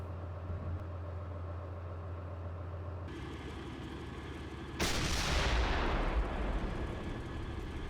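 A tank fires in the Steel Beasts military simulator. A loud blast hits midway and is followed by a sustained rumbling roar over steady engine drone, and there is no speech.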